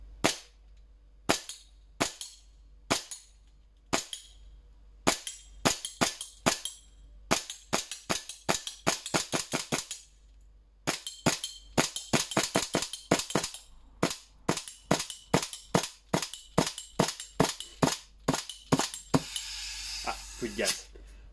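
A propane-powered G&G SMC-9/GTP-9 airsoft gun fires at a target 15 metres away, giving many sharp cracks in single shots and quick strings, with brief pauses and someone speaking quietly in between.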